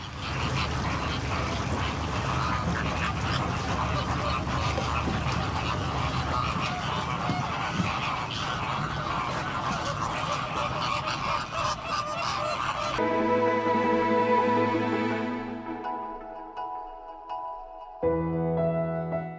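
Flock of flamingos squonking and squabbling over shrimp, a dense chorus of loud goose-like honks and calls overlapping for a long stretch before thinning to a few close, distinct honks.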